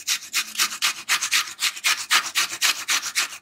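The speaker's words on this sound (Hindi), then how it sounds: "अभी हम गोभी को कद्दूकस करेंगे" Cabbage is grated by hand on a grater in a home kitchen, giving a steady run of rapid, bright rasping strokes, close and continuous with no talking.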